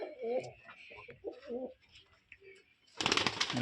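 Soft, low pigeon coos repeat through the first half, followed by a sudden burst of broadband rustling or flapping at the end.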